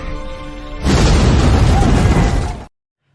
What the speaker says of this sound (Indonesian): hingga akhirnya ledakan pun terjadi.